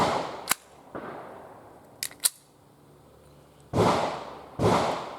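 Taurus GX4 pistol firing 115 grain MagTech ammo: a sharp crack near the start, a few lighter metallic clicks and clacks of the action, then two heavy blasts close together near the end.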